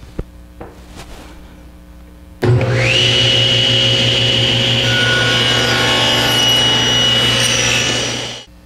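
Table saw starting up and cutting wood on a crosscut sled, a steady loud whine with a high ringing tone sustained for several seconds before spinning down; a few faint knocks of handling come first.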